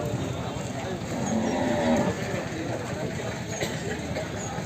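At a busy buffalo market in Erragadda, a low bovine moo carries over a crowded background of voices and shuffling livestock at middle distance.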